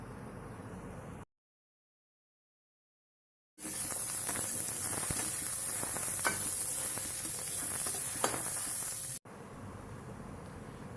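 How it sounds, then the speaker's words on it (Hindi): Ginger, garlic, green chillies and cashews sauté in a kadai for kadai paneer, giving a steady, dense sizzle with light stirring that starts abruptly after a stretch of silence and runs for several seconds. "अब हम इसमें अदरक, लहसुन, हरी मिर्च, काजू, इन सबको डाल के इन सबको भी हम हल्का सा भून लेंगे।"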